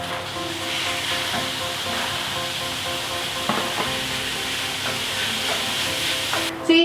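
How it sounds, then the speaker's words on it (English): Minced meat frying in a pan, a steady close hiss and sizzle with occasional spoon scrapes and stirring taps throughout. "then add your mince into the pan."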